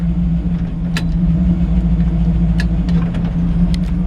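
A 1950 Chevrolet 3100 five-window pickup with a 350 V8 and automatic transmission on a mid-70s C10 chassis, driving with a loud, steady low engine rumble and a few faint clicks and rattles on top.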